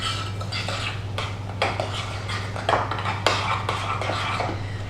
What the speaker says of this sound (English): And then all you're going to do is just mix it up.